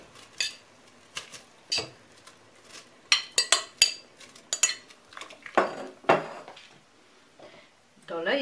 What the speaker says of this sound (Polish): Na wrzący wywar wrzucam buraczki.